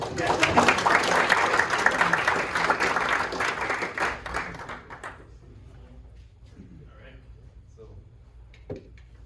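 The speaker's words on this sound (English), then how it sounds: "So another round of applause." Audience applause, a loud dense burst of clapping lasting about five seconds before dropping away to a quiet room with faint scattered sounds.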